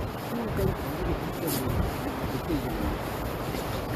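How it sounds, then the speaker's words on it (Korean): Water rushes steadily along the Hantan River, a continuous broadband roar heard outdoors with faint voices in the background. "물소리가 만방."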